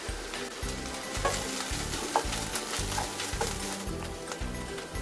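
Finely grated fresh coconut is roasted and stirred with spices in a pan with very little oil, giving a steady sizzle under rhythmic, evenly spaced scraping strokes of a spoon, close and continuous.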